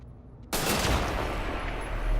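Gunfire in the video game Wolfenstein: The New Order bursts in suddenly after a quiet moment, a loud dense barrage that continues with sustained crackle and rumble.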